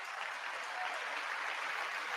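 Applause from a chamber audience during the State of the Union address, a steady wash of many hands clapping at moderate volume, slightly distant.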